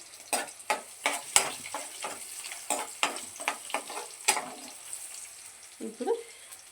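Idli pieces with turmeric sizzle in a hot pan as a spoon stirs and scrapes them in repeated close strokes over a steady frying hiss, with a brief clink near the end and no talk.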